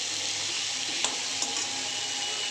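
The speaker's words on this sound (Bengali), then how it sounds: "জিরে গুঁড়ো আর শুকনো লঙ্কা গুঁড়ো দিয়ে এবার আমি 3-4 মিনিট ধরে কষিয়ে নেবো ভালো করে" Cumin powder and dried chilli powder sauté in a pan for a katla fish curry, a steady close sizzle broken by a couple of sharp stirring scrapes.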